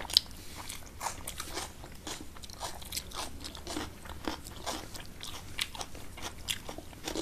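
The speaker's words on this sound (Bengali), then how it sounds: "আলুটো অলপ টেষ্টিং কৰোঁ" Close, soft crunching and chewing as someone eats Assamese-style mashed potato, irregular bites and mouth sounds repeating quietly throughout, with no talking.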